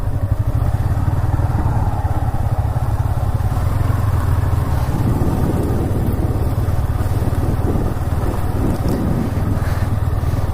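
A motorcycle rides along the India–Bangladesh border near Taki, Basirhat, its engine droning loud and steady throughout with some rattling road noise.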